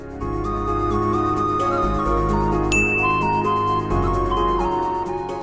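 A mobile phone rings with a bright, repeating electronic chime tune, loud and close, looping steadily over a low sustained tone with no talk.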